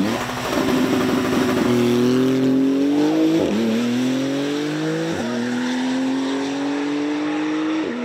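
A race car accelerating at full throttle at a racing event, its engine note climbing loud and steady through several gear shifts, close and dominant throughout.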